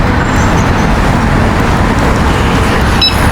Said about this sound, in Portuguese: Porque o tanto de motinho que tem aqui, de carro.